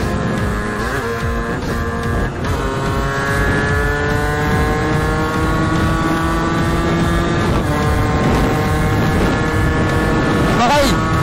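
A Derbi motorbike engine running hard on the road, a loud steady whine with rising and falling pitch as the rider shifts through a sticky gearbox, continuous throughout, with wind noise and a voice talking over it.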